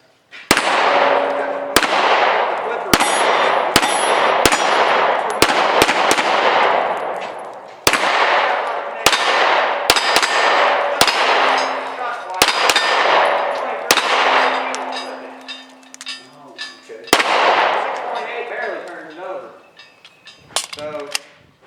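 A Jericho 941 pistol fires at steel targets on a range, each shot a sharp crack followed by a ringing metallic clang, in quick uneven strings of close, loud shots with brief pauses between.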